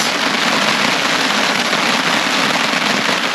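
Steady rain pours down on a campsite in the woods, a loud, even wash of drops that holds at a constant level throughout with no voices.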